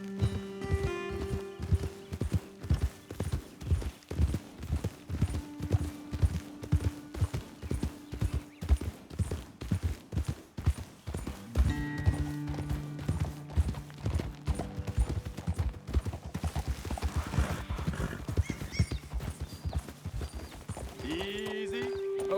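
In the video game Red Dead Redemption 2, horses walk with steady, even clip-clopping hooves, close and continuous, and a whinny rises near the end.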